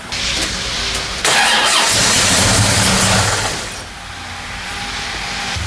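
A 1972 Chevy Nova with a big-block dual-quad tunnel ram engine cranks, fires and roars loudly for a few seconds, then drops to a rough, lumpy idle, close up.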